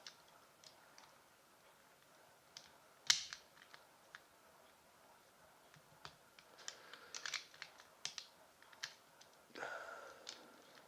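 Plastic swords being pulled out of a Transformers Generations Deluxe Class Arcee toy figure, a scatter of small, close clicks and ticks with one sharp snap and some soft rustling.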